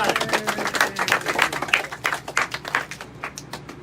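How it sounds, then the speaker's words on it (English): Brief scattered clapping from a small group, a quick round of claps with uneven rhythm, fairly close, with no talking. "Let's give it a round of applause"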